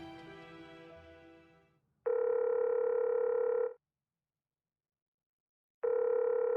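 A telephone ringback tone in a Bengali romantic audio story: closing music fades out, then two long, steady buzzing rings sound with a silent gap between them.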